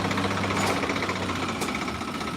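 A farm tractor, sold with power steering at a tractor market, runs steadily at idle, producing a loud, continuous rumble with a rapid knocking pulse throughout, heard close up with no talking.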